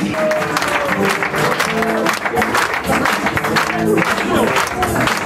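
Applause from an audience at an improv match fills the whole stretch, with voices mixed in.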